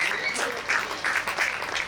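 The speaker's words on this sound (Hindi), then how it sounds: "उनकी ताली बजा।" A seated audience at a religious discourse gathering claps briefly, a short burst of moderate applause with uneven patter.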